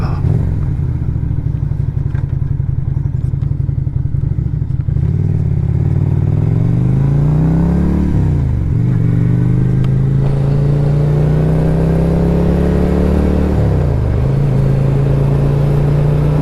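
A Lifan Lycan 250 motorcycle being ridden gives a loud, close engine drone that holds steady. The pitch rises and falls through gear changes and throttle swells, with road rumble underneath and no voices.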